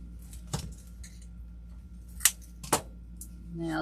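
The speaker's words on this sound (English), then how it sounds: "I'll just cut the stem off." Cutters snipping through a flower stem while a tropical summer wreath is made at home: a few sharp, brief metallic clicks spread over a quiet background.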